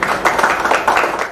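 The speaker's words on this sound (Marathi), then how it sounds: "सर्वांनी जोरदार टाळ्या वाजवा." Audience applause at a Warkari devotional gathering in Maval taluka, a dense wash of many hands clapping steadily and fairly loudly throughout, with no clear pauses.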